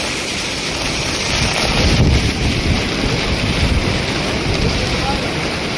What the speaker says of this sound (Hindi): बहुत तेज हवा आ रहा है